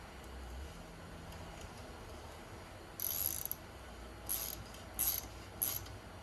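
A thread repair tool is turned into the oil drain hole of a Yamaha YZ125 held in a vise, producing several short bursts of sharp ratcheting clicks over a faint workshop hum.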